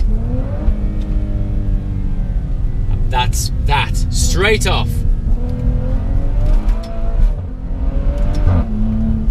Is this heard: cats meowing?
no